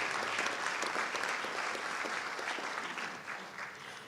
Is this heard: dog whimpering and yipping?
no